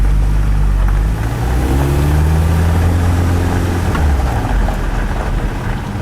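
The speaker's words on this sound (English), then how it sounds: "We'll go ahead and run down the driveway here in first gear." A Suzuki Samurai rolls down a driveway in first gear with the transfer case in high range, its engine a steady low rumble at medium revs, loud and close throughout with no talking.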